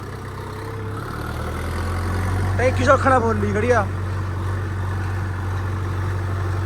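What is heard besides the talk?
tractor engine running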